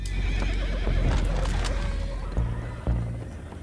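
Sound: horses neighing in Red Dead Redemption 2 video game

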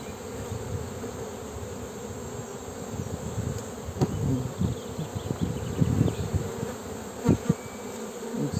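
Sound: honey bees buzzing at hive

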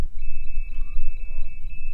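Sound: personal alarm full alarm sounding

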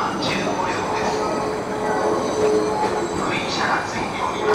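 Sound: train moving at station

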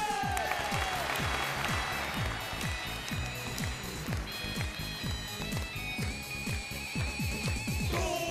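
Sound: audience applause welcoming a contestant

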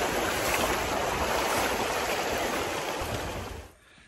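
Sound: river flowing at a crossing on Mt. Kiamo trek

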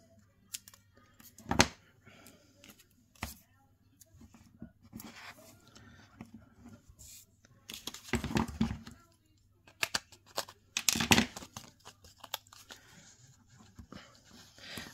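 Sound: cutting off designer series paper

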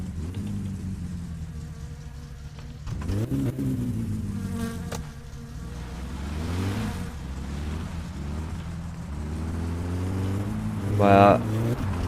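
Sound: car engine starting in My Summer Car video game

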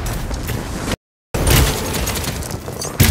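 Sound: gunfire in the video game Paladins

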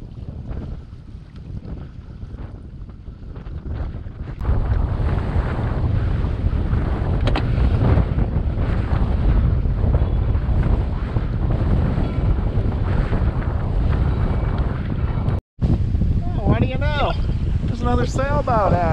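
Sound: strong gusty wind at sea

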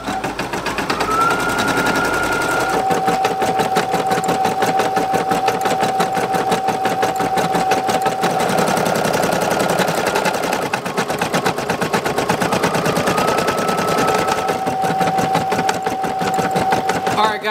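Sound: embroidery machine stitching out a patch

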